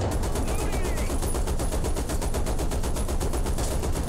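A Hellcat's gun fires in a video game as a rapid, evenly spaced burst of loud shots that hammers on for the whole stretch without a break.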